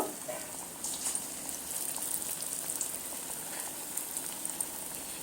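Drumstick leaf pakora batter fries in hot oil, giving a faint continuous bubbling sizzle with small crackles throughout.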